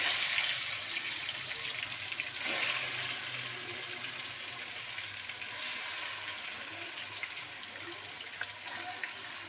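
Meat goes into hot oil tempered with cumin for a thin chicken curry, raising a loud, hissing sizzle that stays dense and steady, with a few brief clatters of stirring and no speech.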